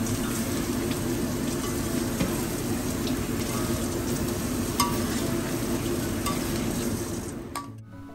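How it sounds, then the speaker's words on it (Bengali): Washed rice being stirred into cooked spice masala in a pot for khichuri, a continuous loud sizzle with scraping stir strokes, cutting off abruptly at the end. "চালটা দিয়ে বেশ কিছুক্ষণ একটু নাড়িয়ে নেব"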